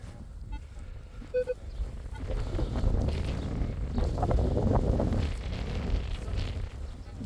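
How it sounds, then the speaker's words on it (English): Strong gusting wind outdoors during metal detecting, a loud low rumbling buffet across the microphone that swells and eases throughout, with a few faint clicks early on. "that wind is crazy"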